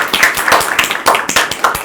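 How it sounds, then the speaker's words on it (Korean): At a Korean presidential election debate forum, the audience claps while a panelist is introduced, a close, lively run of individual hand claps with a quick uneven rhythm. "박수 부탁드리겠습니다."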